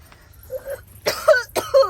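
A person coughs and clears the throat in a house during a Maithili comedy sketch, a few short close rough bursts with a faint hum beneath.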